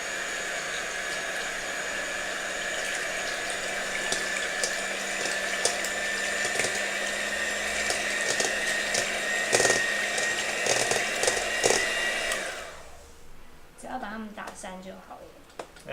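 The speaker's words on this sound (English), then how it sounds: "Okay, so we have a little hand mixer there." Small electric hand mixer beating brownie batter, a steady loud whirring buzz with rattling beaters that runs for about twelve seconds and then cuts off, leaving a few clinks and quiet talk.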